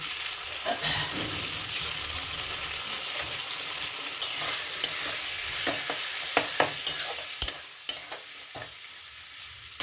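Green pea paste curry bubbles and sizzles in a pan while a spoon scrapes and stirs it, the strokes growing more frequent and sharper toward the end, close and without talk.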